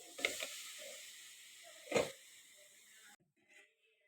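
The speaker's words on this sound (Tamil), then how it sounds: "தண்ணி நல்லா கொதிக்குது." A faint, steady hiss of water boiling in an idli steamer with a couple of soft clatters, then it cuts off into near silence.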